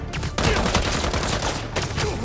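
Dense, continuous bursts of gunfire from paparazzi armed with guns in Marvel's Spider-Man 2, loud and close, with rapid overlapping shots filling the whole stretch.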